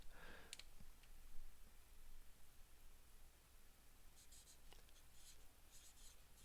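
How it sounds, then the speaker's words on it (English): A big black marker squeaks and scratches across paper in short strokes, faint and close, with quiet pauses between bursts of writing; no voice is heard. "Let's write it in big black marker."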